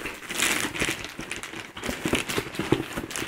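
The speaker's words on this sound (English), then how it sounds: "Let's open up the package." A package being opened with scissors, giving close, continuous crinkling and crackling of packaging material with sharp snips and rustles throughout.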